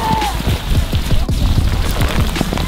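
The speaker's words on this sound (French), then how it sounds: "Il pleut de plus en plus fort." Heavy rain pouring down outdoors, a dense, steady hiss of drops on surfaces, loud and close throughout.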